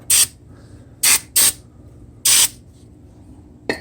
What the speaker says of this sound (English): After you clean it up, spray it off.